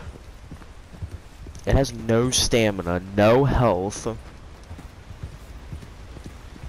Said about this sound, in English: Scrawny Nag, the worst horse in the game.